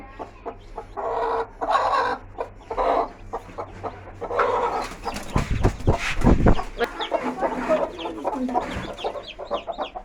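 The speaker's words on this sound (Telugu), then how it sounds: "చిన్న కోడి పిల్లలు" A mother hen and her six freshly hatched chicks make close, fairly loud sounds. The chicks' high cheeps come in bursts, with clucks and a brief rustling scuffle in the middle.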